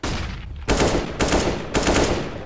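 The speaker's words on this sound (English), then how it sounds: "Deploying flashbang." Flashbang grenade going off in a video game, three loud, close, broadband bursts about half a second apart, each a sharp crack trailing into noisy roar.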